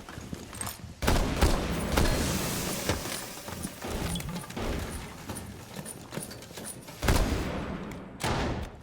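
DMR rifle fire in Rainbow Six Siege comes as a series of sharp, loud shots at irregular intervals with clattering impacts and movement between them, and no voices.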